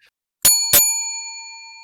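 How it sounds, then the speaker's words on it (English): A bell rings twice in quick succession in a radio studio, two bright metallic strikes whose clear tones hang and slowly fade, loud and close, with no talking. "Chet, let's ring that bell."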